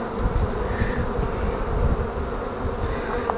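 Dense, steady buzzing of honeybees covering the frames of an opened hive after winter, close and continuous.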